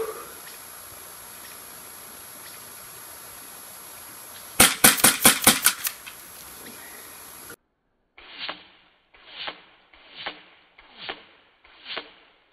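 A rapid cluster of sharp gunshots rings out over faint outdoor background, followed by five evenly spaced single rifle shots, each with a short fading tail.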